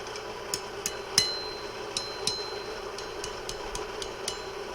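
A blacksmith's hammer strikes hot rebar steel on an anvil while forging tent stakes, in a steady series of ringing blows, about a dozen evenly spaced hits, moderately loud against a low background hum.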